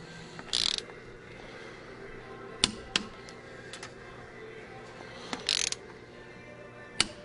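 A torque wrench on piston rod bolts of a Cummins ISL engine during piston installation gives a few sharp metallic clicks and ratchet snaps, spaced irregularly and fairly close in a quiet shop.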